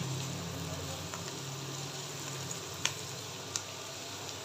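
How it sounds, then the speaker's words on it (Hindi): Sliced capsicum and mixed vegetables fry in a pan over full heat for vegetable rice, giving a steady broadband sizzle throughout with two sharp clicks near the end; no one speaks. "अभी इन सभी वेजिस को मैं तकरीबन मज़ीद 2 मिनट के लिए फ्राई करूँगी फुल आंच के ऊपर"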